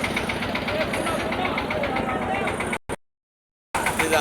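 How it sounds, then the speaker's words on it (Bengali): A cattle truck at a livestock market pulls away loaded with cows, its engine a steady mid-pitched drone under background voices, before the sound cuts out briefly and then returns. "গরু কিনে নিয়ে ট্রাক চলে যাচ্ছে।"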